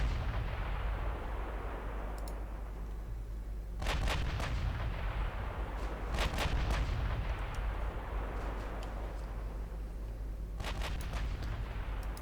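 Heavy battleship gunfire in the naval game Ultimate Admiral Dreadnoughts, as German Bayern-class ships fire their main guns: several loud booming salvos at intervals over a continuous low rumble.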